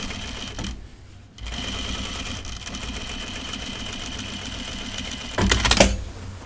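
A sewing machine stitches a seam on men's Jutland pants, running steadily and loud at close range with a brief pause near the start and a louder surge toward the end.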